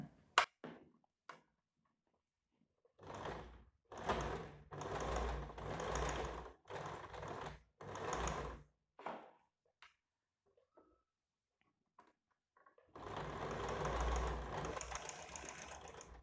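An electric sewing machine stitches right alongside thin cord piping in bursts of rapid, steady needle chatter, a short run, then a longer stretch of several close bursts, a pause, and a final sustained run.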